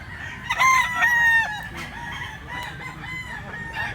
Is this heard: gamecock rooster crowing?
yes